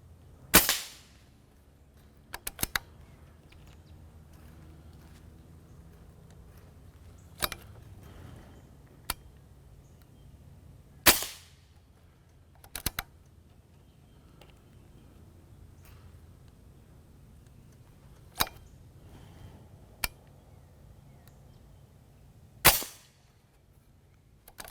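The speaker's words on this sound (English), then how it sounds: "Just never gets old shooting this gun." Toy cap gun fired repeatedly outdoors, sharp loud cracks spaced irregularly every few seconds, some in quick doubles, with quiet gaps between shots.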